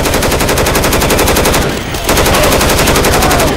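Dense, rapid gunfire from a shotgun in Left 4 Dead, loud and continuous, with a brief lull near the middle before the shooting resumes at full intensity.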